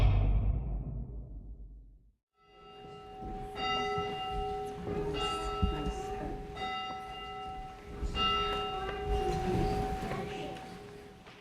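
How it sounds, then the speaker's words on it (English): The bell of Quincy's first church tolls during a Christmas celebration. After a brief rushing sound and a moment of near silence, several resonant strikes ring out with long, sustained, overlapping tones against faint background noise. "with the tolling of the bell in Quincy's first church"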